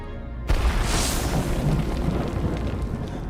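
Thunder sound effect from the video game Snowbreak, a sudden loud crack after a moment of quiet that rolls into a dense, sustained rumble with rain-like noise, no speech.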